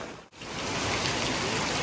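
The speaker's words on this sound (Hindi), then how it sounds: "भाई बारिश ने कोहराम मचा के रख दिया, बहुत ज़्यादा बारिश हो रही है" Heavy rain pours down steadily as a dense, loud hiss that fills the whole clip after a brief dip at the start, with no voices over it.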